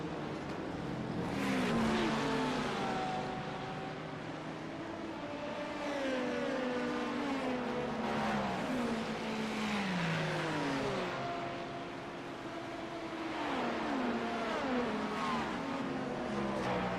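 GTP prototype race cars in a sim racing game, engines revving and shifting through gears in repeated rising sweeps, a continuous loud drone of several cars at racing speed.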